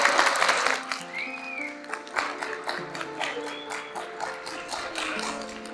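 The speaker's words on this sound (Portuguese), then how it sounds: "eu queria que vocês aplaudissem individualmente cada um dos componentes que estão aqui presentes no palco" A theatre audience applauds the cast on stage at a performance of O Avarento e a Porca, with steady, close clapping and individual taps running throughout over a faint tonal background.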